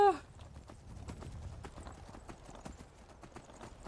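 A horse in the video game Skyrim gallops with rapid, quiet clip-clop hoofbeats after a short whinny at the start, steady and fairly close.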